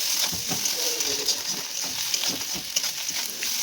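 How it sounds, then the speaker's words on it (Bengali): Banana stem and potatoes frying in a pan while being stirred, a steady bright sizzle running throughout with intermittent scraping of the spoon, close and continuous. "আলুগুলো দিয়ে এখন ভালো করে এটাকে ভেজে নিতে হবে।"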